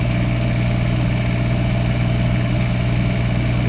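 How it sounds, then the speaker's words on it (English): RV generator runs loud and close with a steady, even mechanical hum and drone that holds unchanged throughout, no voices. "Kicked up the generator a little bit."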